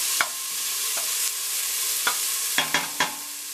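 Homemade sausage browns in a pan over medium heat, giving a steady close sizzle with several sharp spoon scrapes and stirring clicks scattered through it.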